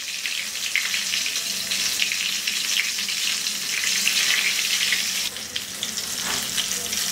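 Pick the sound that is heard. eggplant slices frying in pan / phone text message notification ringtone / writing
eggplant slices frying in pan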